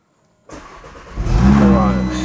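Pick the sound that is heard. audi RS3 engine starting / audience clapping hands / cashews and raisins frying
audi RS3 engine starting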